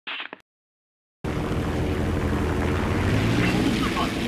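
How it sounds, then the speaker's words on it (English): War Thunder warplane engine roaring at full throttle with war emergency power, a steady loud drone with wind rush that cuts in after a brief pause and holds to the end. "Increase the throttle until war emergency power is enabled."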